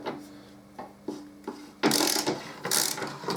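A ratchet clicks in several short bursts while loosening a wheel nut on a Harley-Davidson Deuce trike, with brief pauses between turns and a louder, busier stretch of clicking toward the end, heard up close with no talking.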